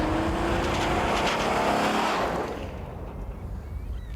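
A 1991 car, the Ultra, roars loudly as it accelerates toward 100 km/h, then the noise drops away and fades into a softer rumble.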